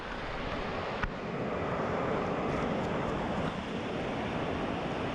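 Steady, dense rushing water of a fast river close by at a campsite fills the clip, a constant broadband roar, with a brief knock near the start.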